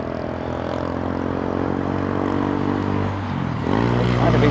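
An airliner landing on a wet runway at London Heathrow in stormy weather, a loud, steady engine drone with tonal whine that swells near the end.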